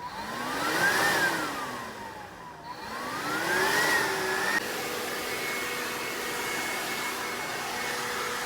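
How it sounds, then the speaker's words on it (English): A Greenworks 40V cordless 2-in-1 leaf blower and vacuum blowing pine straw and dirt, its motor whine loud and near, rising and falling twice with speed changes before holding a steady drone. "blowing away pine straw and dirt"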